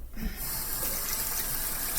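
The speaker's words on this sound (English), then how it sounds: "I'm gonna wash my hands." A kitchen tap gushes in a steady close stream as hands are washed, the flow starting abruptly and running on evenly without talk.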